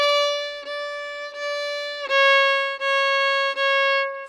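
Bright solo fiddle notes move forward through a three-note scale pattern on the strings, each bowed tone sustained and connected to the next, close and clear with no talk.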